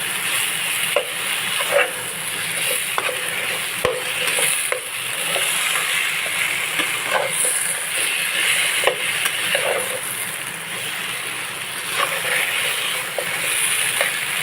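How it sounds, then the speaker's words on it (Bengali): Pieces of taro frying with spices in a pan, a steady close sizzle with intermittent scraping stir strokes throughout, no voices. "এখন এই কচুগুলো দিয়ে দেবো এর মধ্যে কোনো আলু দেবো না আজকে কচুগুলো সঙ্গে মশলা খুব সুন্দর করে কষিয়ে নেব"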